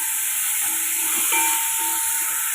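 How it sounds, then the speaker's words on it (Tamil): Chopped onions sizzle in hot oil in a kadai while cooking egg gravy, a loud, steady, dense frying hiss that runs unbroken throughout with faint tonal hums beneath. "இப்போ எண்ணெய் சூடானதும் வெங்காயம் சேர்த்துக்கோங்க."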